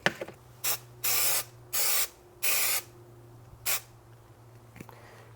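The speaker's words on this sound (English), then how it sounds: "Now we are going to spray again." Adhesive glue for a car headliner, on an NSX coupe, sprays from a can in five short hissing bursts, three longer ones in the middle, close and alone.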